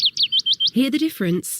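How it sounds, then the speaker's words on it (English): A willow warbler calls in a quick run of about six thin, rising chirps, clear and close, before a person speaks over a short closing passage. "This is the call of the willow warbler."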